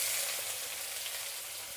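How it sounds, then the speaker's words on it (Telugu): Sliced onions frying in hot oil with cloves and cinnamon in a kadai: a continuous, bright, hissing sizzle with faint crackle, steady and close, with no voices. "ఎర్రగడ్డలు బాగా వేగాలండి"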